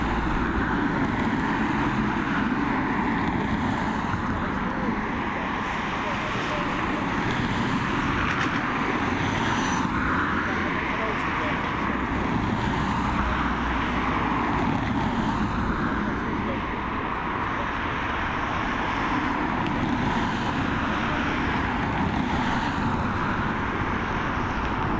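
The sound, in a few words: Ryanair Boeing 737 jet taking off at Dublin Airport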